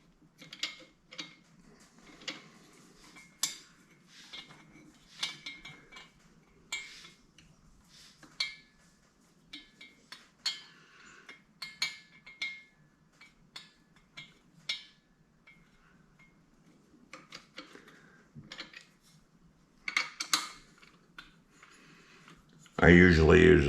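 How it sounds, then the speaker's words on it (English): Socket wrench turning bolts on S&S heads of a Harley-Davidson Twin Cam 88 engine, a series of short ratcheting clicks and metallic ticks in irregular bursts, close by and fairly quiet, ending in a loud clattering burst. "I usually use a socket to turn it."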